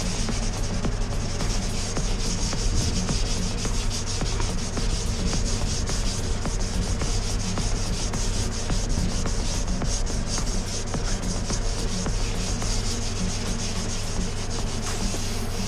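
An orbital sander with an interface pad and 240-grit paper works over a car's wheel arch, a close, steady and continuous abrasive rubbing hiss with no pauses.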